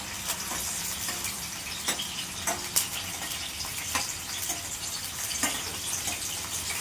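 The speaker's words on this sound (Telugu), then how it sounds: "ఆనియన్స్ మంచిగా కొంచెం కలర్ వచ్చేదాకా వేపుకోవాలి." Onions frying in hot oil for a chicken curry, a steady close sizzle with faint crackles and a few sharper pops scattered throughout, no voices.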